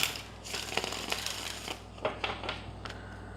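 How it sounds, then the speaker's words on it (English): A deck of tarot cards being shuffled by hand, giving a run of crisp riffling bursts and soft flicks at close range, with a low steady hum underneath and no talking. "Let's get 2 shuffles."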